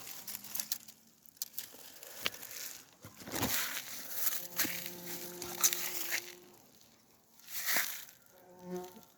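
A bumblebee flies around tomato plants in a field, its low, faint buzz rising and fading as it drifts nearer and farther, with light rustling and small knocks in the background.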